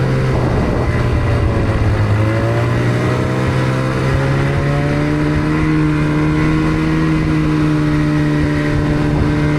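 A dedicated stand-up mountain snowmobile revs loud and close in powder snow at altitude, its engine holding a steady high drone that climbs in pitch through the run with no voices.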